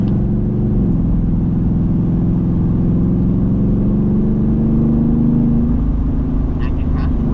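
A Ford Mustang engine pulling on a race track, a loud, steady mid-pitched drone that climbs gradually in pitch as it holds speed, close and continuous throughout.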